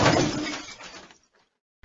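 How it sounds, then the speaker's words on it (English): A cricket ball dropped onto a thin glass pane shatters it in one loud burst of breaking glass, followed by a short tinkling decay of falling shards, then near silence before a brief sharp sound at the end. "The glass pane shattered."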